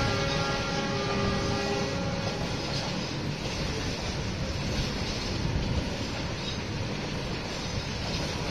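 A steady, loud rumble of a train running, a continuous roar with faint tonal whines above it and no voices; a freight train hauling coal and tank wagons.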